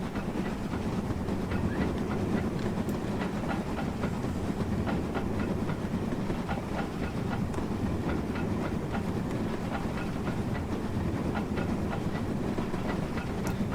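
A train in Train Simulator 2020 rolls steadily along the rails, with a continuous rumbling drone and regular clicking rail joints and a light hiss, constant and unbroken throughout.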